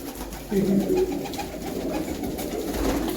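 Pigeons in a coop coo in low, soft, throaty bursts, one near the start and another toward the end, over a steady background hum.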